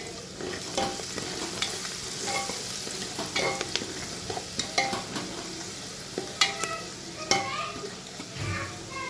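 A frying mixture with turmeric and chili powder being stirred in a pan, a low sizzle beneath irregular scraping and tapping of a spatula against the metal, fairly quiet and close, no talking.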